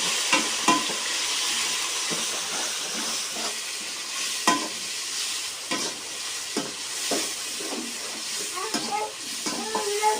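Tomatoes added to golden fried garlic sizzle loudly in hot oil for Kashmiri chicken pulao, with steady hiss, occasional stirring scrapes and clinks, and faint talk.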